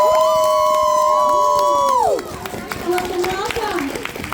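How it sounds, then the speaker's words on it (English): A convention panel audience at FanExpo Toronto 2022 claps, cheers and whistles loudly for guest Jason Liebrecht, with shrill whistles ringing out at first before the noise settles into steady clapping and scattered shouts. "Keep clapping"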